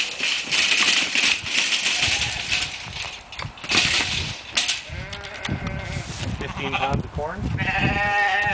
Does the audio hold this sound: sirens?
no